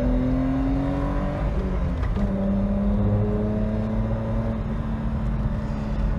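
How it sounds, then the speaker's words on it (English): A BMW E30 six-cylinder engine pulls steadily while driving, a smooth, close, sustained drone with rising and falling pitch as revs change, heard alone without talk. "Never get bored of that six-cylinder soundtrack."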